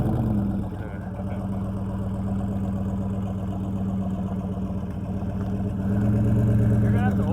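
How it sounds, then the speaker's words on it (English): Minivan engine idling: a steady low rumble with a throbbing pulse that runs throughout and swells slightly near the end. "Fire up the minivan."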